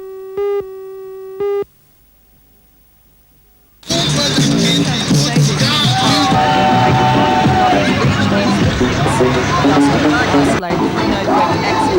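A crowd of spectators, mums and dads among them, cheer at a ring in 1983, a loud, dense roar that bursts in after a couple of electronic beeps and a brief hush and then holds steady.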